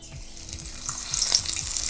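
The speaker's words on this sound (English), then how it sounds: "Hit it sizzle. Yes. That is what we want to hear." Lionfish frying in a hot pan for Jamaican escovitch fish, a bright crackling sizzle that grows slightly louder, with faint low stirring or clatter beneath.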